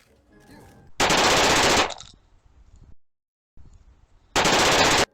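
Shotgun blasts in the video game Deus Ex, two loud, close, sharp bursts with short decaying tails, separated by about three seconds of quieter handling noise and brief silence.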